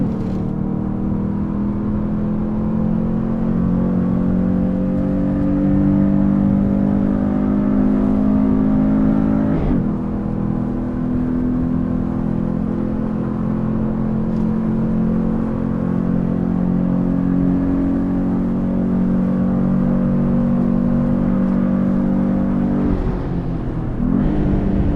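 Porsche 914, used as the first safety car, accelerating hard on a race track: a loud, close engine note climbs steadily through the revs. It breaks briefly at two gear changes before rising again, with no talking.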